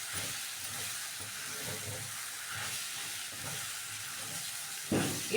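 Sliced capsicum sizzling and hissing steadily in a hot pan while being stirred, a continuous frying crackle with a louder clatter of the spoon near the end.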